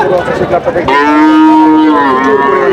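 A cow moos loudly and close by at a crowded cattle market with Shahiwal and Pakhra cattle, one long drawn-out low call lasting a couple of seconds after a brief burst of other noise.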